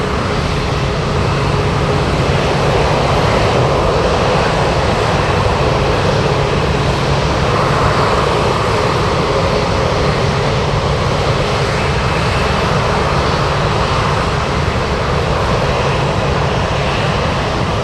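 A Korean cargo jet lands at Anchorage in heavy winds, a loud, continuous jet engine roar holding steady throughout with no voices.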